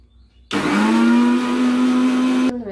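An electric grinder switches on abruptly and whirs at a steady high-pitched hum for about two seconds while grinding chutney with yogurt, salt and cumin powder, then cuts off.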